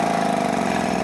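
A Minnich A-3SCW/4SCW air-powered drill runs with its feed engaged, giving a steady, loud, even whir and hiss that holds constant throughout with no voices.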